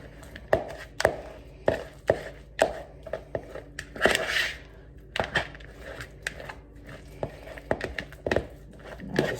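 Cream cheese ball mixture being stirred together with seasonings, a series of sharp irregular knocks and scrapes of a utensil against a bowl, close and fairly loud with brief pauses between strokes.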